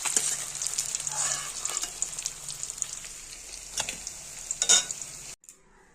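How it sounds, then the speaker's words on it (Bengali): Katla fish pieces frying in hot oil, a steady bright sizzle with light crackles and a few stirring scrapes, cutting off abruptly near the end. "সব মাছ লাল করে ভাজা হয়ে গেছে"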